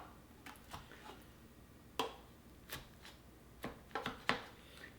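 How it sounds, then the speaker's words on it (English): A spatula slices down the middle of a baked homemade blackberry cobbler, giving a handful of soft crisp crunches and taps spaced irregularly, close and fairly quiet. "I'm just going to take a spatula here and easily just cut down the middle"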